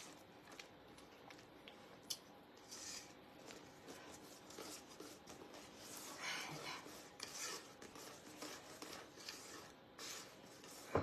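Drained diced rhubarb is mixed in a bowl, giving faint, continuous scraping and rubbing with occasional light clicks of the utensil, quiet and close.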